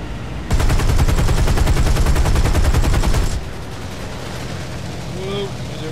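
Aircraft machine guns firing in War Thunder: a loud, continuous burst of rapid gunfire lasting about three seconds, then quieter engine drone and a few faint tonal beeps from the game.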